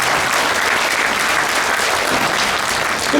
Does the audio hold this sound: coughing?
no